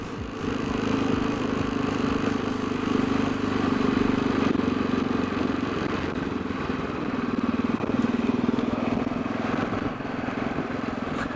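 A motorcycle rides through Berlin streets with a continuous engine drone and steady rumble, loud and close from the saddle, with wind and traffic noise mixed in throughout and no speech.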